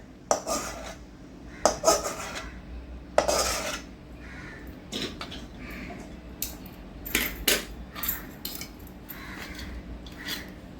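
Melted jaggery mixture is stirred in a pan while making a ladoo. A metal spoon gives repeated irregular scrapes and clanks against the pan, with quieter rubbing between strokes and faint speech.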